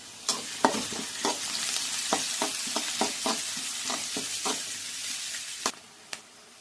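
Onions, curry leaves, fennel seeds and green chillies fry in hot oil in a kadai, a continuous sizzle broken by repeated scraping stirs of a spoon against the pan, close and clear with no talk.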